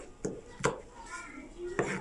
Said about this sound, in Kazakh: Сарымсақты ұсақтап